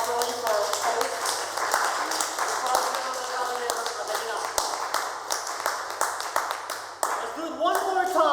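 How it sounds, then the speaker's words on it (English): Audience applause for the host at a Toastmasters public speaking meeting in Cluj, steady dense clapping from a room of people lasting throughout, with a few cheers and voices mixed in. "let's applaud properly for our host"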